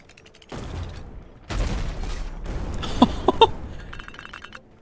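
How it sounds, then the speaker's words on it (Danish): Cannon fire in a video game booms in a couple of heavy blasts followed by crackling bursts of gunfire and metallic clinks, dense and continuous, with no speech over it. "for at skyde med kanon"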